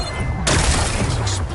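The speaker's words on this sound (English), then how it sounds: "Gotta blast away some rocks, so I can expose the power cell." Rocks blasted apart in the video game Horizon Forbidden West to expose a power cell, a sudden loud explosive burst with a rumbling, crackling tail.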